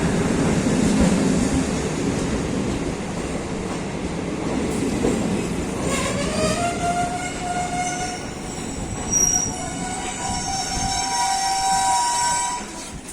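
A DEMU special train running from Darbhanga to Forbesganj at Tamoria station rumbles steadily nearby, with rising wheel squeal and tonal whines building in the second half, loud and continuous with no talking.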